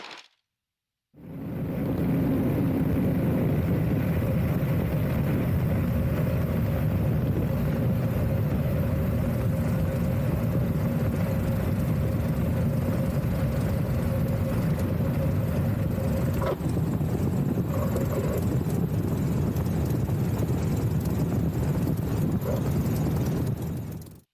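An 82-year-old Aeronca taildragger airplane makes a three-point landing. Its engine drones loudly and continuously from close range, steady throughout, with faint knocks and rattles near the end.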